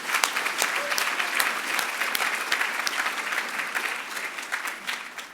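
Sustained audience applause at a cultural diversity awards ceremony, a dense steady wash of many hands clapping that fills the room at even loudness and tapers slightly toward the end.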